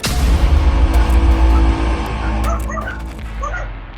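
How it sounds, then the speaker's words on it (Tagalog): A dog barks and yips over a low rumble of traffic at a street where a CCTV camera records a scavenger taking a bicycle; a few short, fairly loud yelps, some whimper-like, come through the noise. "Hindi nito alintana ang mga kahol ng aso"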